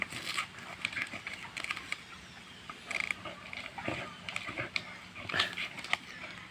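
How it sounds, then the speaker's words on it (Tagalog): A dog tearing the husk off a coconut makes irregular scratching, ripping and patter sounds, with occasional sharper cracks and faint snuffling, fairly quiet, with no clear talk. "Yan ang asong nagbubunot ng niyog."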